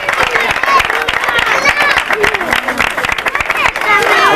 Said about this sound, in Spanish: el aplauso de despedida para todos ellos